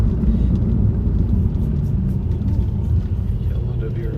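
A yellow Subaru WRX drives past on a Portland street, a steady low engine and road rumble that holds at a fairly even level for a few seconds without any sharp peak.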